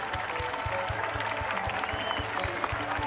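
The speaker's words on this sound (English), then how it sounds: "One more round of applause for these guys." Dense, sustained audience applause for a band after a live stage performance, loud and continuous with crowd noise mixed in and a steady pulsing low thump beneath.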